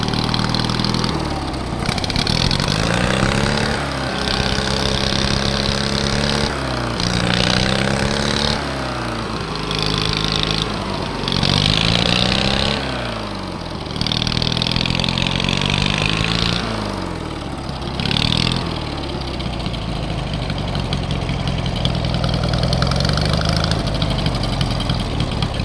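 An MTD racing lawn tractor's small engine runs close by for a long stretch, its pitch rising and falling in repeated surges as it revs and settles, with no talk over it.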